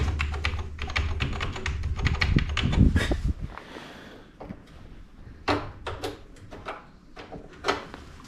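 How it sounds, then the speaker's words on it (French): Old computer keyboard keys are pressed in an abandoned industrial site, a run of dense clattering taps followed by sparser, separate clicks, close and fairly loud, with some rustling handling noise. "Oh, les vieux claviers."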